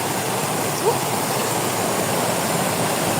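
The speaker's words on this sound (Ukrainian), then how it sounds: "Зараз ми з вами підемо на водопад. Там трішечки шумно" Constant loud rushing of a waterfall nearby, an unbroken white-noise roar with a brief faint sound near the start.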